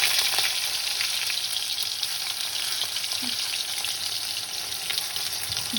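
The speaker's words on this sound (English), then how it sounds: "This is frying the potol" Pointed gourd (potol) sizzling and crackling in hot oil, a steady loud frying hiss with occasional pops and stirring.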